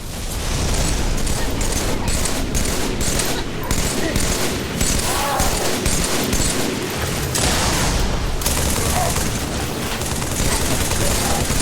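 Gunfire and grenade explosions in a Doom vs Halo video game: loud, dense bursts of rapid automatic fire mixed with heavy booms, nearly continuous, with a voice heard briefly amid the combat.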